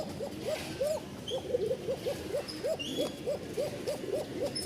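Pigeons from a Rajshahi fancy loft, a pair of high-grade birds, give a steady run of thin, repeated cooing calls alone at moderate distance, each coo rising and falling in a regular rhythm.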